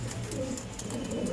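Pigeons of the chatiyal breed coo continuously at close range, low soft throaty calls layered over one another without pause and with no talking.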